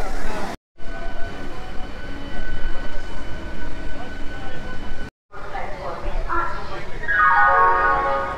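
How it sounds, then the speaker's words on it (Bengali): A Katwa local train runs at steady speed, its broad rumble and rattle continuous between two brief gaps, with a rising tonal whine near the end; voices are faintly present. "আমাদের ট্রেনটা ঠিক সময় ছেড়ে দিয়েছে, কাটোয়া লোকাল 12টা 10-এ"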